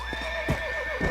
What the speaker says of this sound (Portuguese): Amarre seu cavalo.